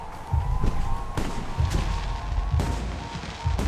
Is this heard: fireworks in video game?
yes